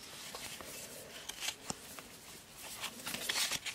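Pokémon trading cards being handled and shuffled, giving a steady soft papery rustle with light flicks and slaps as the cards slide against each other, close and fairly quiet, with no talking.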